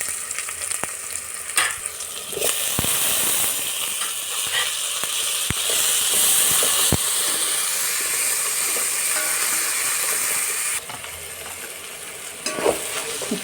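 Chopped tomatoes sizzle loudly in a pan of hot oil with fried onion and curry leaves while hotel-style sambar is made for idli. The frying hiss is steady and close, broken by scraping stirs and small clatters.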